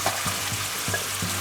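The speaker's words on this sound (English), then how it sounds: "Just let that saute a bit, evaporate it a little bit" Tomatoes saute in a pan for a potato and peas curry, giving a soft, steady close sizzle with a few light stirring taps and no talk.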